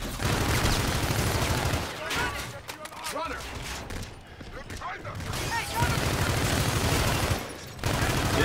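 Stun gun fire in the video game Call of Duty Infinite Warfare: dense bursts of electronic gunfire and explosions crackle loudly, thinning out in the middle before heavy firing resumes, with voices in the mix.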